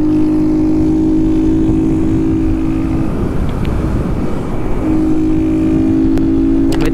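A car accelerates on a track, its engine droning loud and close. The pitch holds steady, breaks into a rougher stretch midway like a gear change, then settles back into a steady drone.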